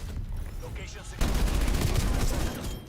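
Rapid PPSh submachine gun fire in Call of Duty: Black Ops Cold War, fitted with a loud pipe blueprint, bursts in loudly and continuously after a quieter opening stretch with game ambience.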